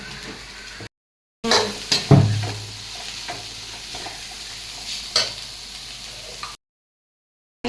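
Bitter gourd frying in hot oil in a home kitchen, stirred with a spoon against the pan: a steady soft sizzle broken by a few sharp scraping clinks, with brief silent gaps at the start and end.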